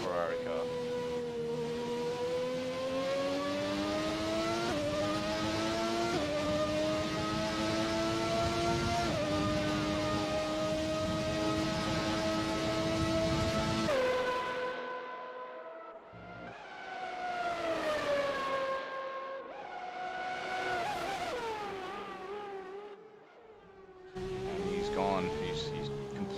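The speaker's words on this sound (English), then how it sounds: "I'll let you guys listen to the V12 engine of the 1990 Ferrari car." A 1990 Ferrari V12 screams through gear changes in an online classic racing-game event, its high, whining engine note climbing and dropping repeatedly as it brakes and accelerates, with commentary talking over it.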